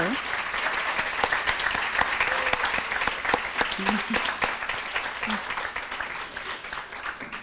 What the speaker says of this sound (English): So would all of you just please stand and let us give you a round of applause for, for what you do?